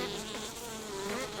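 Honeybees buzzing inside an open hive, a steady, dense hum of many wings close by with a soft wavering drone that continues throughout, no voices.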